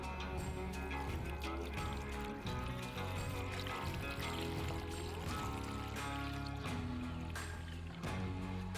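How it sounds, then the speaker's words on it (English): Water poured from a jug into a pot of corned beef, a continuous gurgling pour lasting several seconds with a steady, fairly full sound. "Now I'm gonna add some water."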